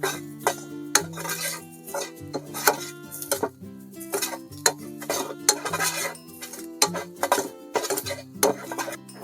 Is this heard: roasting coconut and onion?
yes